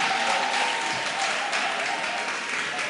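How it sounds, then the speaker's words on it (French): A church audience applauds a guest pastor as he is welcomed. The clapping is steady and dense throughout, with no voices standing out. "Docteur Coutoin, sous vos acclamations."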